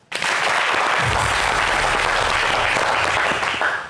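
A television studio audience applauds loudly and steadily for about four seconds, a dense, continuous wash of clapping that starts abruptly and stays even throughout.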